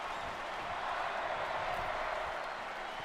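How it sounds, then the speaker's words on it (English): A large indoor wrestling arena crowd at WrestleMania VIII roars steadily as a broad, distant wash of cheering and clapping that holds at moderate volume throughout. "Crowd coming alive now."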